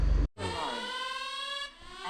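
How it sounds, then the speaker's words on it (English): A boat's anchor alarm sounds at night as a steady, piercing electronic tone that holds for over a second and then cuts off, with nothing else heard. "We had an interesting night last night with the anchor alarm."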